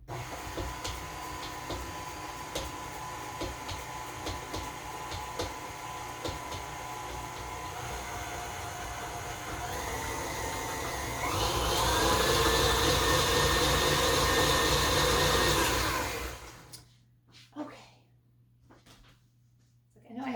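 An electric kitchen mixer hums continuously while beating dry ingredients into chocolate batter, growing louder and harsher partway through before switching off, followed by quieter handling sounds.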